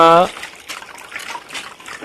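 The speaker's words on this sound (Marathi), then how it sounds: "शुद्ध पाणी गाळून येतं आणि जनावरं जे आहेत ते शांततेत हे शुद्ध पाणी पितात" Filtered, clean water trickles into a goats' drinking trough in a soft, steady wash of liquid noise that follows a brief voice at the start.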